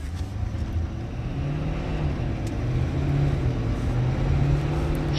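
A 2024 Ford F450 pickup with a 10-speed transmission accelerates, its steady low engine drone holding close and loud throughout and swelling slightly as speed builds, with no talking.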